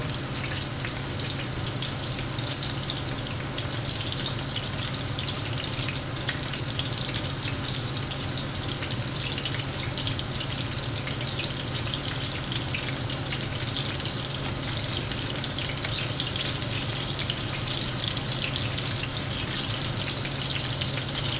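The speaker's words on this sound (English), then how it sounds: "It's already browning, so you can start turning them just so they don't get too brown on each side." Meatballs browning in a pan give a loud, continuous frying sizzle with dense crackle and spatter, steady throughout without any talk.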